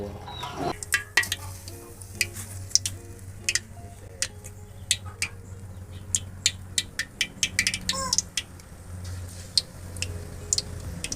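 Banana pieces deep-fry in hot oil in a home kitchen, giving a steady bubbling sizzle with frequent sharp crackles and pops scattered irregularly throughout, close and clear.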